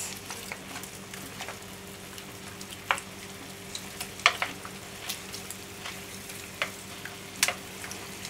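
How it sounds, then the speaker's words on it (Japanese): Pork teriyaki pieces sizzling in a frying pan, a steady close hiss of frying broken by sharp spitting crackles. "切った断面にもタレがつくように焼いていきます。"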